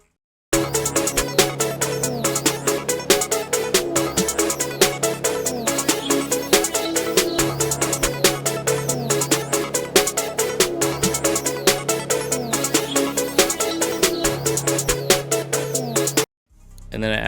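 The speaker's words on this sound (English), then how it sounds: "And then I added these 3 accent snares." A trap beat built in FL Studio plays steadily and loud, with three accent snares layered over dense hi-hats, bass and melodic loops, running continuously before cutting out near the end.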